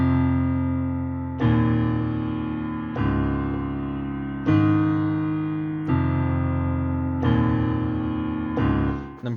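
Bass chords from a medley played on piano, six sustained low chords struck one after another at a slow even pace, each ringing out before the next, loud and close with no voice.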